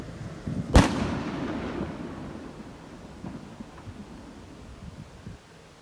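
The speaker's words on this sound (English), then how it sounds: "someone was lighting fireworks off on the street behind mine, and it was very loud" Fireworks set off on a street behind a house in London: one sharp, loud bang near the start, followed by a long rolling rumble and scattered distant crackles fading away.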